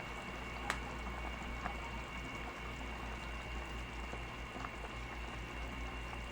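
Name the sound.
pot of soup boiling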